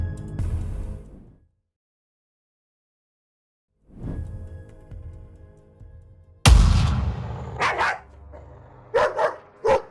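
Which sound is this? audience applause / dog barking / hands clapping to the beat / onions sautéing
dog barking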